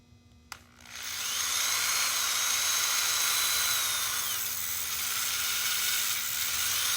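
A high-speed drill bores a hole through a cast two-part epoxy resin ornament, starting after a brief click and then holding a steady, loud, high-pitched whine to the end.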